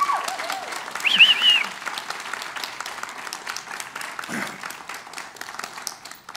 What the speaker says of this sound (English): Yeah, you can clap on that.